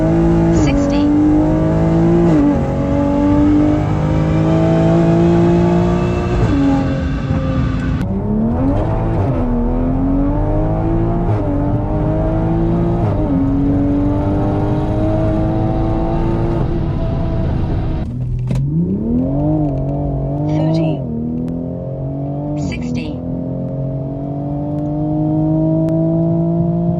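A 2020 Toyota Supra with bolt-on mods and a stock engine climbs in pitch and drops at each gear change, accelerating hard and loud through several shifts with a steady roar.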